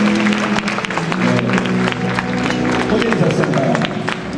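A church congregation claps together in sustained, dense applause, loud and close, with crowd murmur and voices mixed into the steady roar throughout.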